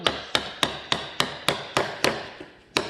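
Wood carving knife or chisel being struck into wood during whittling, a series of about ten sharp, close knocks at a steady, slightly uneven rhythm, alone without talk.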